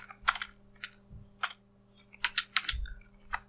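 Scattered keystrokes on a computer keyboard, a few quick clusters of crisp clicks separated by pauses, close and fairly quiet against a low steady hum.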